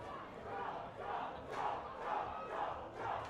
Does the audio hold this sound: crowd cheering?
yes